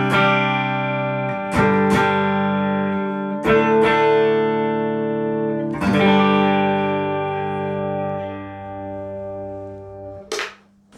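An electric guitar played through a 1977 Marshall JMP 100 with a clean tone on the neck pickup rings out in a few separate strummed chords, each one sustaining and decaying slowly, close and fairly loud.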